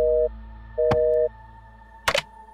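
A phone hang-up busy tone in the game Mom, You're Scaring Me: Cat's Cradle, two clear steady beeps with a pause between, followed by a soft click-like rustle.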